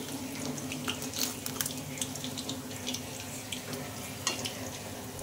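Fish fried in oil crackles and sizzles steadily up close while pieces are lifted out, with scattered clicks and scrapes of a utensil against the pan.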